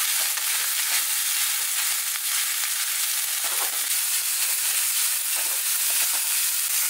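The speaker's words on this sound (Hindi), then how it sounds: "हाई फ्लेम पे सब्जियों को ना हम 2 से 3 मिनट भूने हैं।" Vegetables for spring rolls stir-fried in oil over a high flame, a loud continuous sizzle and hiss with faint stirring scrapes throughout, close by and with no talking.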